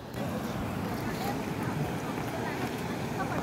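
A boat on the Dawki River in Meghalaya gives a steady, close rumble of engine and churning water, mixed with wind buffeting the microphone, continuous for the whole stretch.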